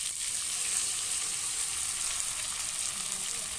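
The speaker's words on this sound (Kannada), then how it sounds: "ಈ ಮಸಾಲೆ ರುಬ್ಬಿರೋದನ್ನು ಹಾಕ್ತಾಯಿದ್ದೀನಿ." Freshly ground masala paste hits a hot tempering for drumstick sambar and sets off a loud, continuous frying hiss that stays even and close for several seconds.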